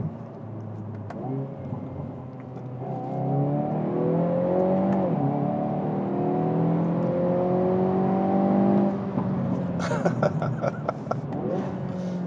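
Engine of a Hyundai Veloster N in N Sport mode rising through a loud, sustained rev after a downshift, its pitch sweeping upward inside the cabin, then settling near the end as the driver talks briefly.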